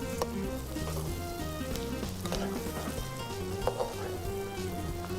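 Crushed white cumin and red chili sizzle steadily in hot oil in a pan for okra and onion, a continuous dense crackle with occasional stirring scrapes.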